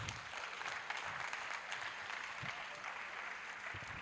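An audience at a university career seminar gives a round of applause, a faint, steady patter of many hands clapping, heard from a distance and continuing evenly throughout.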